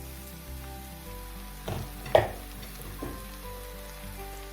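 Mushrooms frying in a pan with 10% cream just poured over, giving a soft, steady sizzle with a few louder clinks and stirring bumps near the middle.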